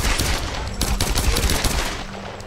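Rapid gunfire rattles in Tomb Raider, a dense burst of loud close shots firing in quick succession before tapering off.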